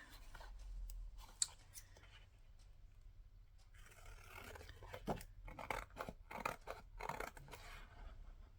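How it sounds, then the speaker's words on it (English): Scissors trimming the edges off paper ephemera at a craft table, a run of quiet close snips and scraping cuts that grow busier and more rapid toward the end, with no talk. "So I'm just going to trim off the edges."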